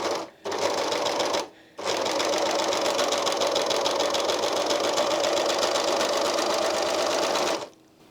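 A Janome 8004D serger overlocker stitches fabric with a rolled hem and cutter, giving a close, steady rapid mechanical whirr with a brief stop and restart near the start, then running continuously before stopping.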